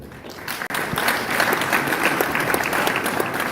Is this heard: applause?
yes